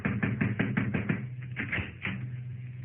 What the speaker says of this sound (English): See, I knock.